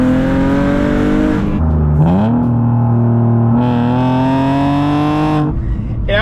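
A BMW E46 wagon's inline-six with a custom exhaust revs hard nearby, its steady droning tone climbing through a gear, dipping briefly at a shift, then pulling up again before easing off.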